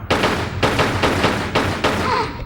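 Pistol fire from the video game Tomb Raider: The Last Revelation, about five sharp evenly spaced shots in quick succession, loud and up front.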